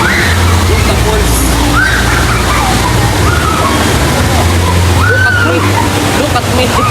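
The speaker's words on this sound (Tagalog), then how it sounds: "Look the falls again. That's the falls." A waterfall in the Batangas/Laguna area gives off a loud, steady rush of falling water. The roar stays constant throughout, and voices talk over it.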